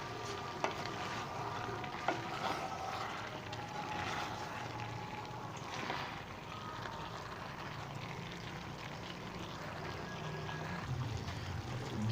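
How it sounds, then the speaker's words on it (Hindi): Capsicum and beef keema being stirred into a masala in a pan, giving a soft, steady sizzle and frying crackle with occasional scrapes of the spoon, fairly quiet and continuous. "और इसको मैं अच्छे से इस कीमे के मसाले में शामिल कर लेता हूँ।"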